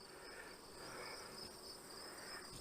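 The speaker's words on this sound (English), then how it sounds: "Crickets everywhere." Crickets chirp in a faint, continuous high-pitched chorus around a beekeeper's hive yard, steady throughout with no voices.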